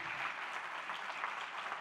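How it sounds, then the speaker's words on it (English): A live audience applauds the four panel members at a TED-style talks event, a steady, even wash of clapping at moderate-to-faint level with no voices over it. "take a huge round of applause from everyone else"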